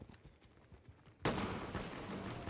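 Musket gunfire from janissary troops in the game Mount & Blade II: Bannerlord, with one sudden sharp blast followed by a dense rolling volley of shots at moderate loudness.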